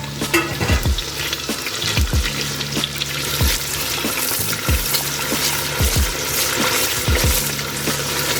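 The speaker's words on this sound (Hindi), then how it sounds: "और ये प्याज हमारे फ्राई हो रहे हैं।" Onions frying in a pan for chana masala gravy, a steady loud sizzle broken by regular scraping stirs every second or so, with no talking.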